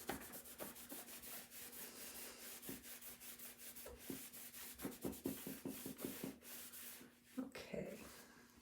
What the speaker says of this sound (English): So I do the wax on, wax off, and I buff it.